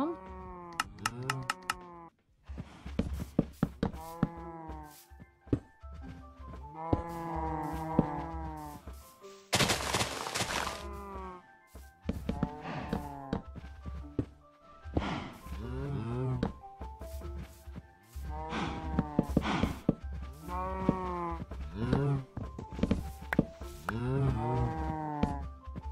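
Cows on a Minecraft cow farm moo repeatedly, overlapping calls coming in steady succession at close range, with a few sharp clicks and bursts among them and no speech.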